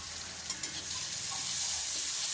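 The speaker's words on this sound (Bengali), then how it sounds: "দেখেন পেঁয়াজ দিয়ে দিলাম।" Chopped onions hit a hot pan and settle into a continuous hissing fry, with a couple of quick clicks of a utensil near the start.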